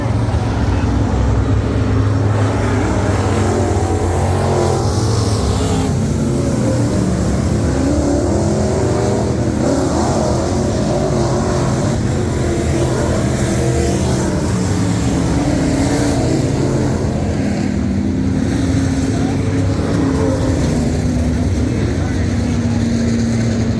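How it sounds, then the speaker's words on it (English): IMCA Modified race cars running on a dirt track, a loud continuous engine roar with rising and falling revs that stays dense throughout, while an announcer talks over it. "Napa Auto Parts IMCA Modifieds."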